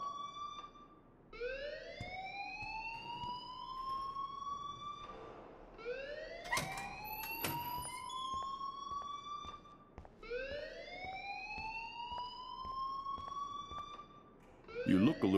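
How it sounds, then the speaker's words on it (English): An alarm blares in the video game Life is Strange, rising electronic wails sweeping upward again and again with sharp clicks between, steady and prominent throughout. "please turn off that alarm since that's your job"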